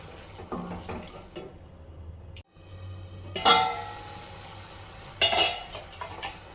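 Tomatoes with half a tablespoon of turmeric stirred in a pan on the stove, giving a steady low sizzle broken by a few sharp scraping stirs and utensil clinks, with no one talking.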